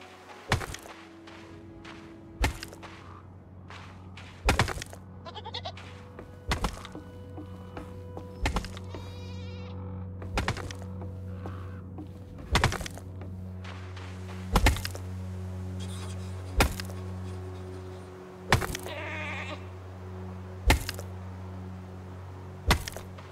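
A goat bleats a few times in the dark Slavic RPG REKA, its cries scattered among repeated sharp thunks and clicks over a steady low in-game hum.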